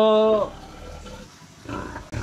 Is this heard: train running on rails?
no